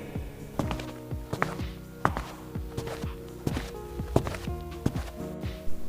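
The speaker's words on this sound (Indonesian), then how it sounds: "dia mendengar suara langkah kaki datang ke arahnya" Footsteps approach as a sound effect in a narrated audio story, a series of distinct thudding steps in a steady walking rhythm, fairly close and clear, with no talk over them.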